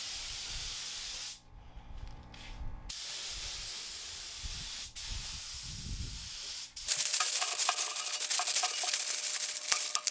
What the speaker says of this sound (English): to seal it all in and preserve my rusty artwork, I am spraying a conversion varnish.